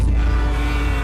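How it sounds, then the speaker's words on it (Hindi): Traffic outside a room, cars driving by: a loud, steady low engine rumble and road hum close by, continuous through the moment without talk. "अरे बाहर गाड़ियाँ चल रही है तो ट्रैफिक की आवाज आ रही है।"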